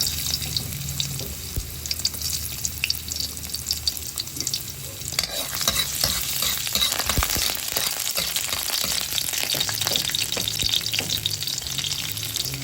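Garlic fries in oil in an antique pan, giving a loud, close, continuous crackling sizzle with frequent sharp pops and stirring scrapes throughout.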